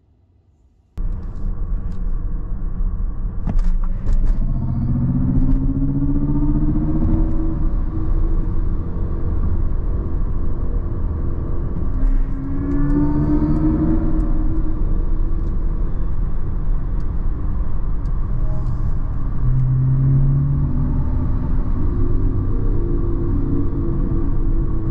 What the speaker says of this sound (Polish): Jak słyszycie, czasami EQS wydaje z siebie takie dźwięki statku kosmicznego.